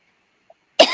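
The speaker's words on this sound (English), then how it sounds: "I keep coughing in your ear." A single sharp cough bursts out close by near the end, preceded by near silence and one faint tiny click.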